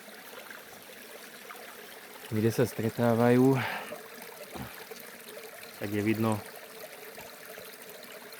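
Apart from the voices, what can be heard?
small slow-flowing side brook running into a larger brook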